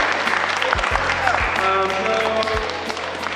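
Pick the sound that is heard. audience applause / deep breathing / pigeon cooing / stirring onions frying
audience applause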